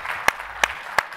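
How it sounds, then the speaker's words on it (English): A round of applause at a business talk on raising private capital, soft crowd clapping with three sharp, louder claps standing out at a steady beat. "Give him a round of applause"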